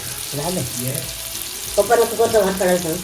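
Fish, including black pomfret, sizzles steadily in hot oil in a pan on a wood-fired clay stove, with a continuous hiss under faint background voices.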